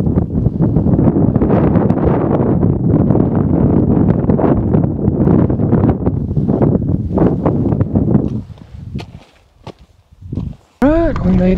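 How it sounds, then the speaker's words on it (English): Strong gusting wind roars and buffets the microphone on a snowy Guadalupe Peak, loud and continuous, then drops away briefly near the end as footsteps and a voice come through. "Wind certainly picked up."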